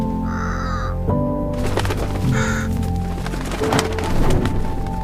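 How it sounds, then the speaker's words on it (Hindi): A crow caws twice in the video game Undawn, with harsh, raspy calls set over a dense, noisy game ambience that sounds like rain and a low drone. "कौवा उड़ गया"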